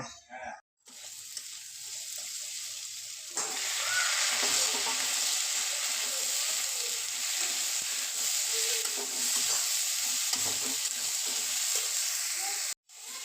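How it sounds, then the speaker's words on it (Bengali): Ridge gourd pieces and potatoes fry in hot oil in a pan, a soft start giving way to a steady, close, continuous sizzle with occasional stirring noises, no talking. "ওর মধ্যে ঝিঙ্গাগুলো দিয়ে দেব ঝিঙাগুলোকেও লাল করে একটু ভেজে নেব"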